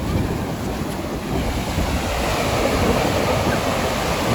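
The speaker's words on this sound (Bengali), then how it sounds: "তো আমরা এখন সমুদ্রের অনেক কাছে চলে এসেছি। গোয়া মানেই সমুদ্র।" Sea waves break and wash steadily onto Sinquerim Beach in Goa, a continuous loud roar of surf with wind buffeting the microphone throughout.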